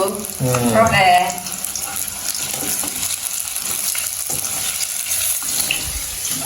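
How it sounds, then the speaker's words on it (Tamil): Steady broadband hiss of leftover idli frying in hot oil, continuous throughout, with a short burst of voice near the start. "இட்டலி பொரிக்கிறேன்"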